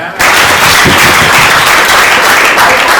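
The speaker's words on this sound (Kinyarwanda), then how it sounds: "Amahirwe ya gatatu nimukomere Imana amashyi." Church congregation bursting into loud, dense applause for God during a service, starting abruptly and continuing as a close, sustained roar of clapping.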